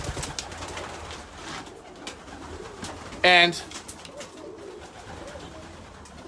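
Racing pigeons in a loft give a brief, loud, close coo midway through a soft murmuring background, with a voice speaking briefly.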